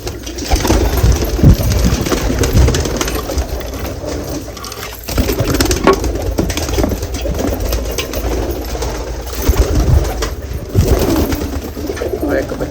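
Ferozpuri pigeons coo in a steady, repeated low murmur, with soft rustling and faint background voices throughout.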